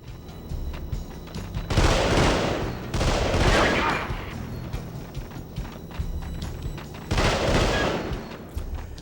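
Assault rifle fire in the game Delta Force: Black Hawk Down comes as several loud sustained automatic bursts, roughly a second or so each, separated by brief gaps of quieter battlefield noise.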